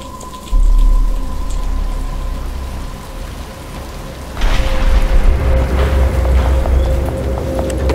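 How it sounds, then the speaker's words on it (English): Heavy rain pours in Batman: Arkham Asylum, a loud continuous downpour that swells abruptly midway, with thunder-like rumble underneath and drops hitting nearby surfaces. "But it's starting to rain."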